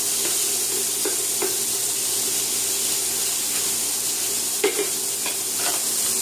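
Shrimp and scallops sizzle in a hot pan for scampi, a steady close hiss and crackle with a few faint stirring clinks and no talk.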